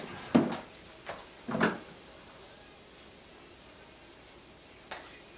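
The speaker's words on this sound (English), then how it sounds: "he knocked over the vinyl that I have like on display" A cat knocking over a vinyl record kept on display in a home makes a sharp clattering knock, then a second bump and a louder scraping clatter, with one more faint knock near the end, against a quiet room background.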